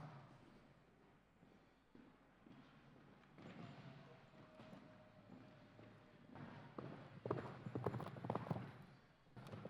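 Hooves of Lomachenko, a show jumping horse, clip-clop across an arena during a 1.45m Riders' Cup round. The steady footfalls run throughout and grow louder and busier near the end, over a low background hum.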